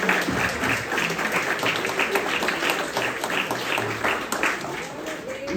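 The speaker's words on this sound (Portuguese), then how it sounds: "Queria que nós aplaudíssemos ao Senhor pela vida do Tinão" Church congregation applauding, a dense, sustained wash of clapping filling the room, with a voice speaking over it.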